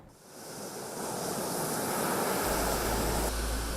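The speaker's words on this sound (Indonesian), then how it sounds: "gelombang air laut di Pantai Kuta menghantam hingga ke pesisir pantai" Rough sea surf pounds the shore at Kuta Beach, Bali, during a storm with strong wind, a steady broadband roar building louder and heavy with wind buffeting on the microphone.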